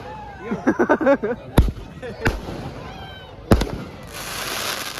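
Sky shot fireworks burst during Dussehra celebrations, with several sharp, booming cracks spaced a second or two apart and a crackling tail, while people talk nearby.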